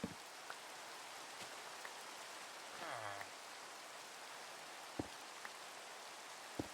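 Steady, quiet Minecraft rainfall forms an even wash of hiss, broken by a few sharp clicks and one short tonal chirp partway through.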